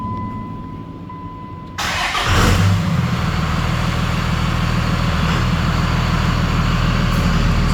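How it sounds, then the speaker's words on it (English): A 2002 Dodge 2500 pickup with a 5.9L Cummins diesel cranks briefly and fires up, then settles into a loud, steady, rumbling idle heard up close. "Fires right up, nice strong running truck."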